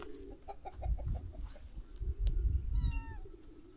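A little kitten in a new place gives a few short, close mews amid soft thumps and handling noise.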